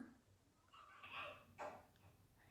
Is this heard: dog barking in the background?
yes